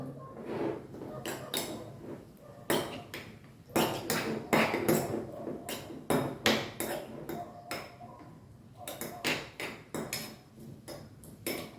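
Ginger pickle stirred in a pot with a spoon, a run of sharp metallic clinks and scrapes against the pot sides, coming in irregular bursts with short pauses between, close and fairly loud.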